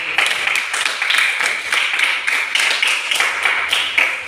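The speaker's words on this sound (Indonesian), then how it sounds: "Tepuk tangan dulu sama teman kita dari." A small group of students in a classroom claps for classmates, with sparse, distinct hand claps in an uneven rhythm at moderate level.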